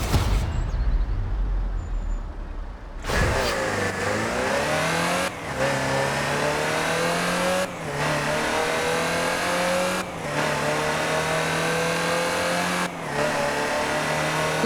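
A Land Rover Type 3's engine in Forza Horizon 4 roars to life after a quiet start, then climbs through the revs in repeated pulls, each cut by a short dip at a gear change, loud and close with no talk.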